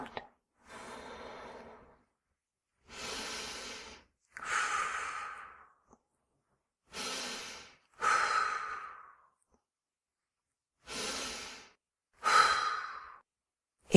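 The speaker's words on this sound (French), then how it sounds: "Prends quelques respirations profondes." Deep breathing during a children's meditation, six slow, audible in-out breaths in a regular rhythm separated by silent pauses, close and clear with no talk over them.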